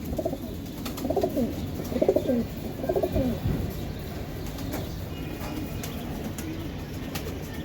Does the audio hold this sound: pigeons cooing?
yes